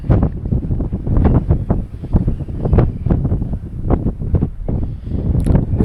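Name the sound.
wind blowing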